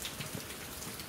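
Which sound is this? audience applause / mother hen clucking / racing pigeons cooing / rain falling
rain falling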